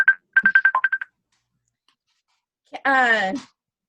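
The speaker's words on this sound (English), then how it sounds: "someone's trying to FaceTime me on my phone" A phone chimes with an incoming FaceTime call: a quick run of short repeated electronic tones, a pause, then a longer warbling ringtone burst, clear and close.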